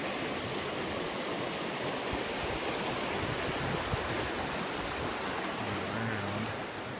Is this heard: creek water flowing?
yes